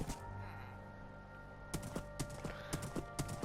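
Horse hooves clip-clopping in Minecraft, a run of crisp, evenly spaced clacks starting partway through over a faint steady game background.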